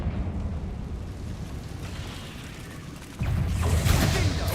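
A Confringo spell blasting a barricade in Hogwarts Legacy: a steady low rumble that suddenly jumps into a louder fiery burst with crackling debris, close and alone without talk.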